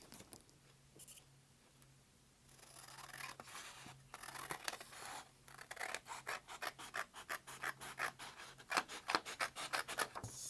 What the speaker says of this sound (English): And I'm going to cut along that line.